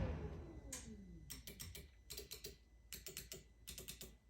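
Relays click on a Polaris full-size Ranger HD Pro while a plow system with power up/down and tilt is wired in, sharp clustered ticks in quick bursts, close and fairly quiet, after a brief descending mechanical whine.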